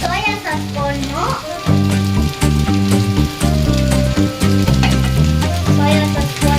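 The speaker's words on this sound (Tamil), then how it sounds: "இப்போ நல்லா நம்ம மிக்ஸ் பண்ணி விட்டுக்கலாம்." Noodles sizzle and crackle in a hot pan as they are stir-fried and tossed, with loud, steady frying under prominent background music.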